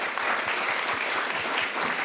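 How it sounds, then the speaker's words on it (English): An audience at a scientific conference's plenary session gives a speaker a round of applause, a dense, even burst of many hands clapping that holds steady for a couple of seconds. "one more round of applause for Maria"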